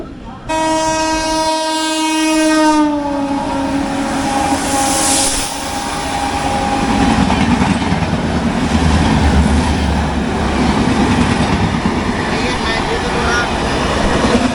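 Long, loud horn blast from the 12618 Mangala Lakshadweep Express, harmonic and slightly falling in pitch, then steady rumbling and clatter of the running train carrying on underneath.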